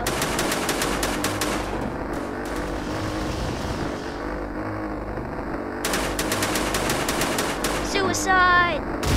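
Biplane machine guns firing in a dogfight video game, rattling in rapid bursts over a constant droning engine, stopping for a few seconds before resuming.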